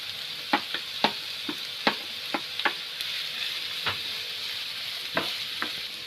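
Onions and cabbage frying in a pan, a soft steady sizzle broken by repeated sharp clicks and scrapes of stirring at irregular intervals, close and moderately quiet with no talk.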